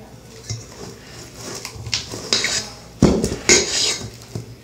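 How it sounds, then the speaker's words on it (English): Thick homemade slime mixed with shaving cream in a bowl gives sticky squelches and scraping clatters of a utensil against the bowl, with louder bursts of stirring midway and no talk. "It's getting real thick, so it's going hard for me to mix"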